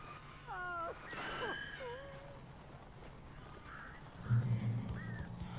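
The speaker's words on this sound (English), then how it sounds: "That's a lot of birds." A flock of crows cawing in the video game Alan Wake, several harsh, hoarse calls in scattered succession at moderate distance, with low rumbling noise rising near the end.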